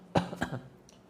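A few quick coughs and throat-clearing bursts from participants in a group spiritual healing therapy session, close and short, with no talk.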